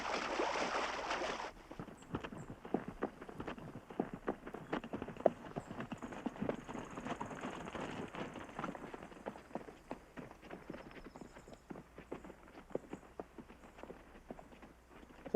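A band of wild mustangs approaches, hooves clopping in an irregular stream of sharp, close hits over soft ground and water, with a brief splashy burst at the start and the thuds gradually thinning and fading.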